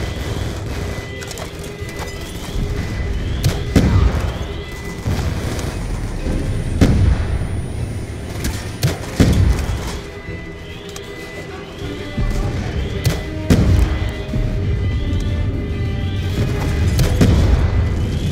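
Grenade blasts thump repeatedly through a Call of Duty: Black Ops II campaign battle, several loud booms spaced a few seconds apart over continuous combat noise.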